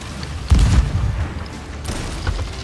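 Ship cannons firing in the pirate video game Sea of Thieves, a loud booming blast near the start followed by a rumbling tail and a fainter second boom later, with no talk.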